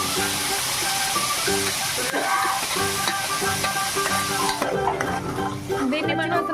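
Tomato puree hits a hot pan of oil while cooking tomato rice, giving a steady, close sizzle with stirring scrapes throughout, no talking.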